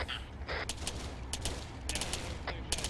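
Arma 3 gameplay with an anti-tank launcher firing amid a steady stream of gunfire, bursts of automatic shots and sharp cracks layered over continuous loud battle noise.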